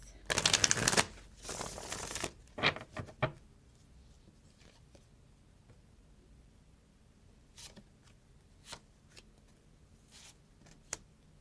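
Oracle cards are riffled in two quick bursts, then a few soft taps and card placements follow over a quiet stretch with scattered light clicks.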